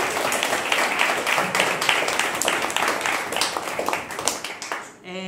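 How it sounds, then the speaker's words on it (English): A live audience gives a big round of applause at a staged storytelling show, a steady dense clatter of clapping that runs for several seconds before it quickly fades out at the end. "Give them a big round of applause."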